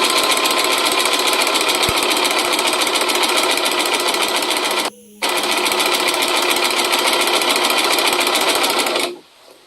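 A sewing machine stitches a cosplay costume seam, running in one loud, fast, even rattle close up, stopping briefly about halfway through, then resuming before it winds down at the end.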